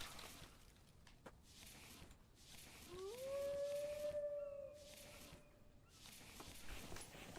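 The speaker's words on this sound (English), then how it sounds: "Away from the howling sounds." A lone drawn-out howl from a creature in the survival video game The Infected, rising then holding for about two seconds, distant and moderately loud over rhythmic swishing and crunching game sounds.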